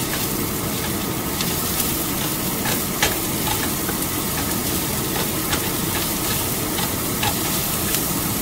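Ground meat frying in a pan for tortang talong, a loud, dense, continuous sizzle close up with occasional faint ticks and crackles, no one speaking.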